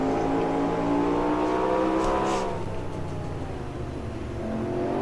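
Race car engines in the NASCAR Racing 2003 video game, set in a 1972 Grand National East season race, roar loud and steady, with a pitch sweep near the midpoint as cars pass, and no talk over them.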